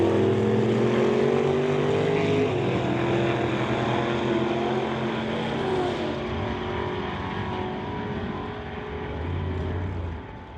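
A Chevy pickup drag racing engine holds a steady, loud roar that fades into a lower, more distant drone, with a brief rise near the end.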